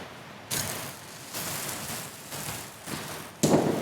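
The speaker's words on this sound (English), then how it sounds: "Can you hear the rain?" Rain falls as a loud, steady, broadband hiss that swells and eases in waves and ends in a sharper gust-like burst, with no voices.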